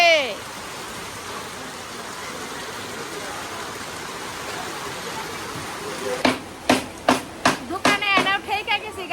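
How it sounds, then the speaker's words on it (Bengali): Heavy rain pours steadily on a village picnic setting, a dense continuous hiss filling the background, with voices and sharp clatter breaking in over it near the end. "এমন বৃষ্টি নামছে"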